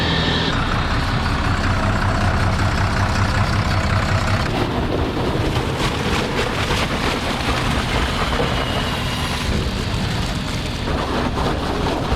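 The engine of a grape harvester idles at close range, a loud, dense, continuous mechanical roar that holds steady throughout with no voices over it.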